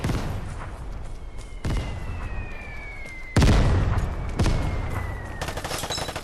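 A light machine gun fires at a shooting range in the game Vigor, giving a few scattered, sharp shots over a steady background hum, with one heavier report partway through.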